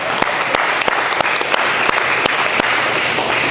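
Steady audience applause, many hands clapping together in a dense, continuous patter with a few sharper claps standing out, no talking over it.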